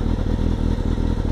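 Motorcycle engine just started from a capacitor bank at around 10 volts runs with a rapid, loud, close putter, its steady firing pulses and mechanical clatter continuous throughout.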